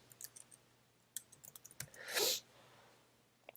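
Computer keyboard keys clicking in short irregular bursts, faint and close, with one louder rustling swipe midway and quiet pauses between taps.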